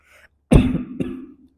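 A single rough cough or throat clearing, loud and close, followed a half second later by a second, weaker cough.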